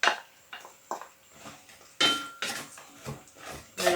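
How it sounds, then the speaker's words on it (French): Sliced carrots stirred in a pan of melted butter over gentle heat, a spoon scraping and knocking against the metal in repeated irregular clatters, close and fairly quiet. "Mélange bien le tout."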